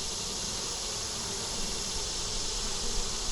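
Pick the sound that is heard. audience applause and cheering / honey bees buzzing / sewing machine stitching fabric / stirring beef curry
honey bees buzzing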